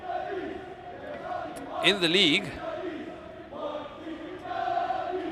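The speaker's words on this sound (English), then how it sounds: "Not that it's stopping the fans from cheering them on" Football fans at a Singapore Premier League match between Tampines Rovers and Geylang International cheer in a stadium, a steady crowd roar with a brief louder chant, heard under a commentator's talk.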